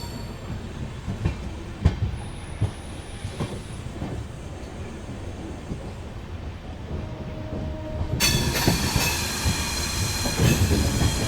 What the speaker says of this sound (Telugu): భీమవరం టౌన్కి వెళ్ళేటప్పుడు కరువు తీసుకుంటారు అనమాట ట్రైన్